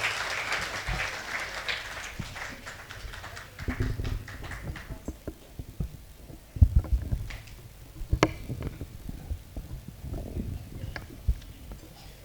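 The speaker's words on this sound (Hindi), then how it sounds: "जोरदार तालियों से इनका स्वागत करें" Audience clapping welcomes a poet at a Hindi poetry gathering, starting full and then thinning into scattered claps and knocks.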